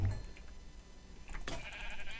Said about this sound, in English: Oh, you broke my thing, you stupid sheep.